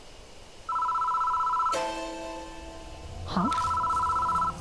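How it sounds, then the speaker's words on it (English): An old telephone bell rings in the horror video game Death Mark, two loud sustained bursts separated by a sharp clatter, with a brief spoken exclamation between them. "The phone starts ringing out of nowhere. It won't stop."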